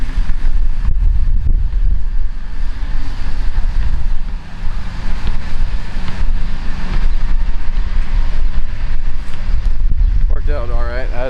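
Strong headwind buffets the microphone on a disc golf course, a loud, continuous roaring rumble that stays up close throughout, with people talking underneath.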